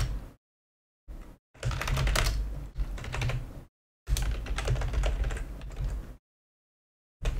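Rapid typing on a computer keyboard in bursts of close, crisp clacking keystrokes separated by short silent pauses.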